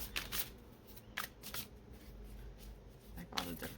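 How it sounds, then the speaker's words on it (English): A deck of cards being shuffled with a series of riffling, fluttering bursts, close and soft, with no talking over it. "So they're very difficult to shuffle."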